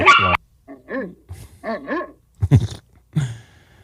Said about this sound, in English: That's the puppy.